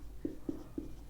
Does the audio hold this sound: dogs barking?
no